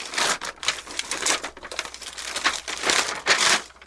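Crinkly plastic packaging around an airsoft gun being unwrapped and handled, with continuous rustling and crackling in uneven bursts, close up and without talk.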